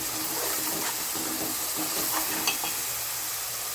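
Onions frying in a pan for crab curry, a dense continuous sizzle with faint scraping stirs, close and steady with no voices.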